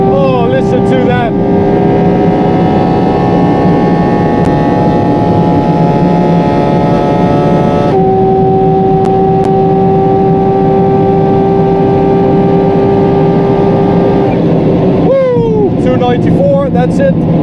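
A Porsche 718 GT4 RS Weissach engine roars continuously at high speed on the autobahn, loud sustained harmonic drone with a shift around the middle and another gear change near the end.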